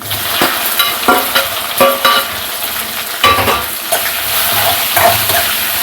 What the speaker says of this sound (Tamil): இதை இன்னும் கொஞ்சம் எண்ணெயில் வதக்கலாம்.